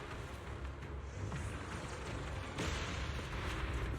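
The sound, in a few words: explosions in a video game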